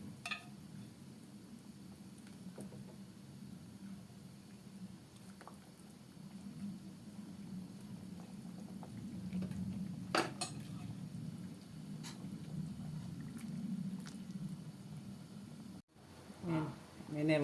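River fish dropped into simmering coconut fish gravy in a pot, soft splashes and bubbling with occasional utensil clinks against the pan, steady low cooking noise throughout.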